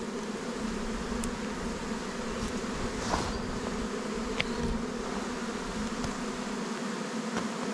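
A honeybee swarm clustering at the hive entrance gives a dense, steady buzz that fills the whole stretch, with individual bees passing close now and then.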